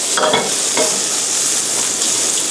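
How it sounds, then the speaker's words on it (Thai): Fennel stir-fried fast over high heat, a loud dense sizzle with quick tossing and scraping strokes near the pan throughout. "เราผัดไฟแรงอย่างเร็ว"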